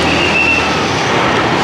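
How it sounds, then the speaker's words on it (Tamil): A train stands at a railway station in Sri Lanka after arriving from Colombo, giving a loud, continuous rolling rumble with a brief thin wheel squeal early on, and no voices. "இங்கே ட்ரெயின் நிற்கிது."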